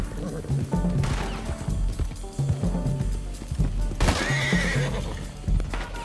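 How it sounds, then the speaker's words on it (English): A horse in a video game neighs and whinnies loudly after being shot, with clattering hooves, crashes and thuds of game action around it, the shrill whinny rising twice over the busy mix. "Du hast den Pferd angeschossen, jetzt geht's aber los."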